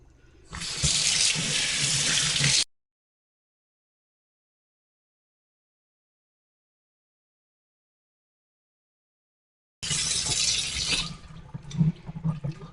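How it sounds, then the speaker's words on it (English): Cool to warm tap water runs steadily over a tie-dyed cotton t-shirt being rinsed in a sink, a loud splashing rush that cuts off abruptly, leaves a long silence, then resumes with uneven splashes and handling sounds. "I'm going to rinse it in cool to warm water."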